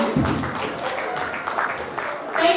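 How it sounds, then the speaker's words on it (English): Applause from the audience at an alumni association annual general meeting, a steady moderate patter of many hands clapping, with a brief voice cutting in near the end. "Another round of applause for him."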